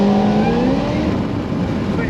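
A Cadillac CTS-V tuned past 850 horsepower roars loud and close under hard throttle, its engine note climbing steadily as it pulls, a continuous dense wall of sound.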